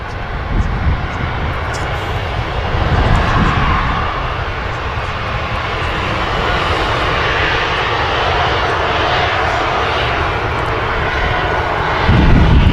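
An Etihad Boeing 787-10 Dreamliner roars at Manchester Airport, a loud sustained broadband engine rush that holds steady and swells again near the end.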